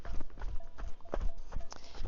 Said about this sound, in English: Do you hear the cows? The cowbells?